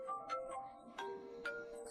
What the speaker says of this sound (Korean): 침대 밑에서 요란한 벨소리가 울려 퍼졌기 때문이다.